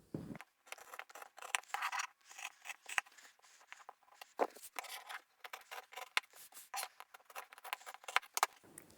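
Scissors snip through fabric corners in a run of quiet, irregular crisp cuts and scrapes, close by with soft handling sounds between the snips.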